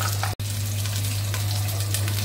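Semai vermicelli frying in ghee in a home kitchen, giving a continuous moderate sizzle with a low steady hum beneath and a brief cut near the start.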